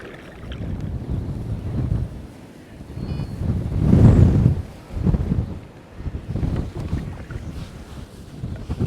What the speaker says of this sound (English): Wind's getting up now.